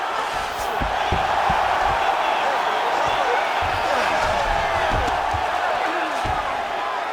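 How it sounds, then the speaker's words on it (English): Arena crowd noise in the EA UFC 5 fighting game, with Fedor Emelianenko facing Tom Aspinall: a dense, steady roar of cheering throughout, punctuated by thumps and impacts, with commentary talk over it. "big pop from the crowd as they get back to their feet after a pretty scintillating grappling battle there on the ground"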